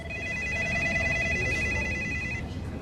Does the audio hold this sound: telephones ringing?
yes